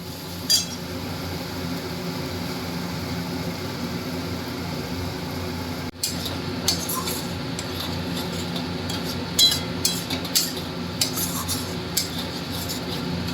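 A spatula scrapes and clinks against a kadai while small new potatoes with green peas are stirred into an aloo dum over a medium flame. The light metallic taps come at irregular intervals over a faint, steady background hiss.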